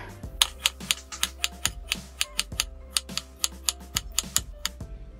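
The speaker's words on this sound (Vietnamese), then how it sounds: "Rồi đầu tiên thì mình sẽ xắt củ cải cà rốt và củ cải trắng." Knife slicing carrot and white radish into half-centimetre pieces on a cutting board for a vegetarian macaroni soup, a rapid, steady series of crisp clicking chops, close and distinct, with no speech.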